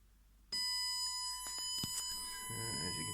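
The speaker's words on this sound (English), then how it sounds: "panic alarm activated" A panic alarm on an Arduino-built home security system sounds a sustained electronic tone with clicks and small knocks, and a low murmur comes in near the end.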